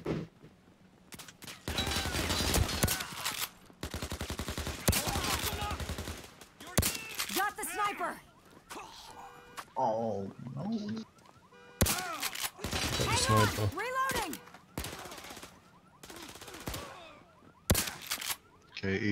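Bursts of gunfire in the zombie shooter Overkill's The Walking Dead, rapid close automatic volleys alternating with single shots and gaps, mixed with clattering game sounds and some voice chatter.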